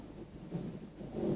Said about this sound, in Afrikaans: Dis donder weer in die lug wat so rammel.